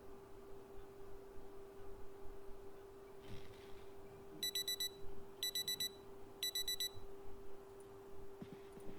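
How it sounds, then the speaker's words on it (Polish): Three quick bursts of high electronic beeping ring from an alarm clock in the zombie survival video game Project Zomboid, thin and fairly faint over a steady low hum and quiet background noise. "Nastawię sobie budzik, tylko żeby on się ustawił na jakąś normalną godzinę."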